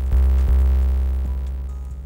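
A deep, booming 808 bass sample of the kind a hip-hop producer uses, struck in a few sustained hits with long, humming low tails, loud and clean with no talking.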